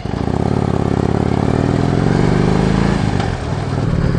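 An old, rattly Harley-Davidson Switchback motorcycle engine runs loud and close, holding a steady throaty drone before its pitch drops briefly near the end and then settles back.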